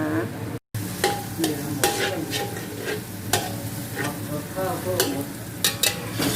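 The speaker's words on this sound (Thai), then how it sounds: "เจียวกระเทียมเหลืองแล้วก็ใส่หัวหอมลงไปเจียวเลยนะคะหอมสับ" Chopped shallots frying in hot oil after garlic, a dense close sizzle broken by repeated scraping stirs of a spatula against the pan, with no talking.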